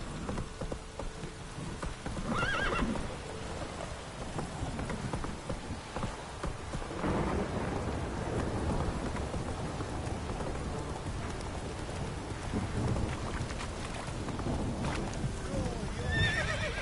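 Roach, Geralt's horse in the video game The Witcher 3, whinnies in steady rain that patters throughout, with hooves clip-clopping and other game sounds mixed in.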